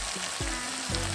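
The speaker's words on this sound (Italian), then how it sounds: "Dovreste sentire questo sfrigolio." Beef bourguignon in a pot sizzling and frying loudly, with crackling spits and a few stirring scrapes breaking the steady hiss, close up with no talking.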